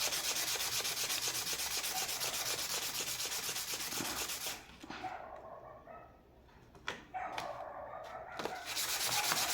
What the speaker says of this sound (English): I will just try to sand them using this grit